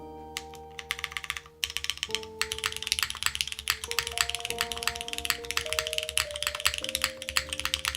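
Computer keyboard typing on freshly swapped keycaps, a steady run of close, crisp key taps over a sustained background tone with game-like music.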